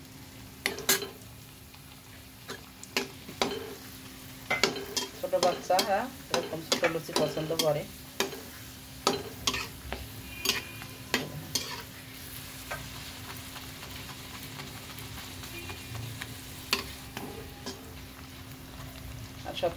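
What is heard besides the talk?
small luchi puris frying in soybean oil in a wok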